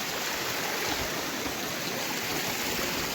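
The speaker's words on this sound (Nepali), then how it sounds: "यही खोल्साको पानी हो" A small mountain stream in Nepal flows in a steady, broadband rush, close and continuous without pauses and with no voices over it.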